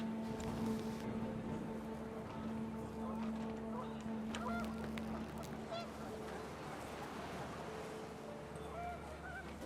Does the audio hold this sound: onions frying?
no